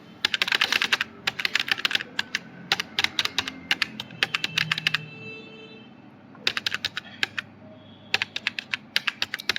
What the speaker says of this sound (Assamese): ইয়াত আপোনাৰ মোবাইল নম্বৰটো টাইপ কৰিব লাগিব